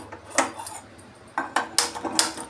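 A metal kadai is set down on a home kitchen stove, giving a series of sharp, close clanks and clatters in irregular bursts against a quiet background.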